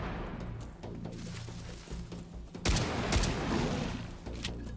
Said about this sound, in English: this is where it's best to use a shotgun